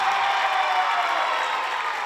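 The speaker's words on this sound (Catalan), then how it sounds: "Aplaudiment per l'escola La Llacuna del Poble Nou." A hall audience gives a school a round of applause, dense and steady clapping that fills a large room at full strength, with no voices standing out.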